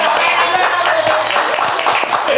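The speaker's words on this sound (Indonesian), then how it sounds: "Katanya tepuk tangan dulu." A group applauding in a room, a dense, steady patter of many hands clapping close by for the whole moment, with a few faint voices mixed in underneath.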